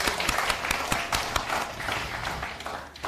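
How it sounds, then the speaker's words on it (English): Dense applause from a crowd at a hackathon finalists' event, steady sharp claps filling the whole stretch with no voices on top. "Round of applause once again to all our finalists"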